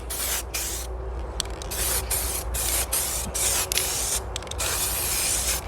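An aerosol can sprays a light dusting coat of paint onto a BMW wheel, a close, loud continuous hiss interrupted by several short breaks as the nozzle is released and pressed again.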